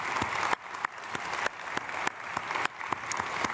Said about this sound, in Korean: 감사드리며 박수 축복하겠습니다.